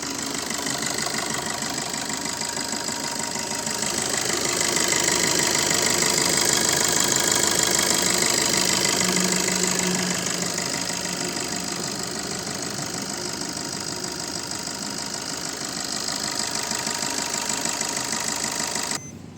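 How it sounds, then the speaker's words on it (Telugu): A 2016 Maruti Swift Dzire VDI diesel car idles steadily for the whole stretch, a close, even rattling clatter with a constant engine drone and no voices. "సరే మీకు ఇంజన్ సౌండ్ చూపిస్తాను చూడండి."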